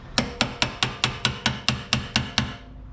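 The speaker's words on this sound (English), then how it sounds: "Hammer it this way" Ten sharp metallic hammer taps on a car coilover lock ring in a quick, even rhythm, close and clear, each ringing briefly before the next.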